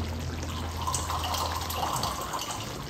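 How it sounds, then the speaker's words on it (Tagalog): Water poured into a cooking pot of simmering lechon paksiw, a steady trickling splash running throughout at moderate level with a low hum beneath. "magdadagdag pa ako ng tubig"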